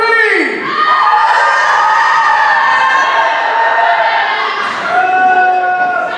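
A crowd lets out a loud, sustained scream and yell together, high-pitched voices blending for several seconds before tapering off.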